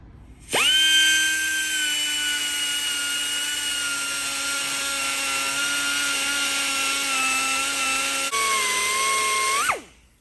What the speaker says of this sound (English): I'm ready to grind a big V through this crack